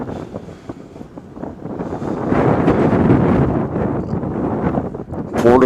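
Cold, breezy wind buffets the microphone at an airport observation area near Northern Kentucky International (CVG), a loud, broad rumbling roar that swells and steadies throughout, with faint voices underneath.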